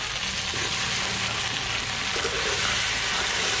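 Potatoes frying in hot oil for a village-style shol fish curry make a dense, continuous sizzle, close and steady with crackling texture throughout.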